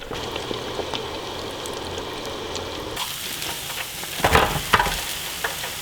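Crappie fish deep frying in hot oil, a steady close hiss of bubbling with a few louder crackles and pops toward the end.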